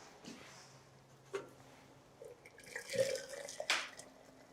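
Hot water is poured over flowering green tea, giving soft, close trickling and a few light drips and splashes, fairly quiet with no voices.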